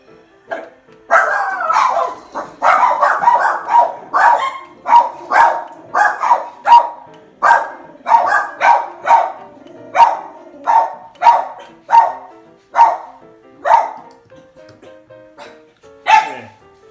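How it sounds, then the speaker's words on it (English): Several dogs bark repeatedly in a rapid, excited burst of yips and barks, fairly close and loud, lasting through the stretch with brief gaps near the end. "dogs are freaking out"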